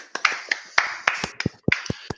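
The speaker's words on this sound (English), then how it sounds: "Give him a round of applause." A few people on a podcast clapping for a Marine, sparse irregular hand claps close to the microphone, about ten sharp distinct smacks in quick uneven succession with no voices.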